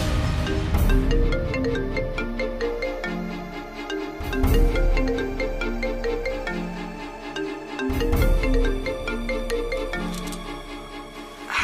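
A phone ringtone plays with an incoming call, a loud melodic tune repeating in phrases about every four seconds, close and clear with no talking over it.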